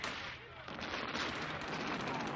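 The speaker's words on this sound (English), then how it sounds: "That is the biggest cannon I have ever seen." Cannon fire from a war movie playing on a TV set: a dense, continuous roar of heavy blasts and gunfire rumbling throughout, with a brief dip before it surges again, heard at moderate level.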